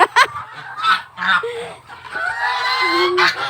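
Farmyard geese kept alongside chickens on a small fish-pond farm honk repeatedly at close range, loud nasal calls in uneven bursts with a longer drawn-out honk near the end, over a low background hum.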